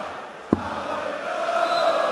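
Darts crowd at the 2016 German Darts Masters, a sharp thud near the start followed by a building, sustained chant from the hall, swelling louder toward the end.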